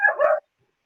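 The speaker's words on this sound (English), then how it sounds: "Oh, that's my dog in the background." Small yappy dog barking in the background: a single short, sharp yip-like bark, fairly close, followed by silence.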